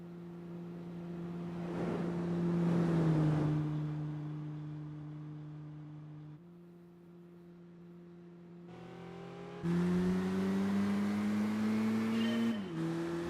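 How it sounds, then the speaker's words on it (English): A V6 car engine in the Gran Turismo 4 racing game revs and drops, its tone rising and falling in smooth sweeps, then surging louder near the end with no talk. "You can actually hear the V6 when the AI nails it"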